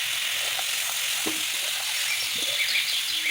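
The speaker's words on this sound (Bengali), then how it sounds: "মশলাটা কষিয়ে আমি ফুলকপি আলুটা দিয়ে দিলাম এটাও আমি এখন কষাতে থাকবো" Cauliflower and potato pieces frying with spices in a pan for a fish curry, a steady close sizzle running throughout with faint scattered stirring clicks.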